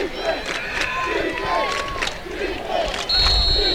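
Crowd noise swells steadily at a high school football game between Newport and Lonoke, a broad continuous roar with scattered shouts and whistling, loud and sustained throughout.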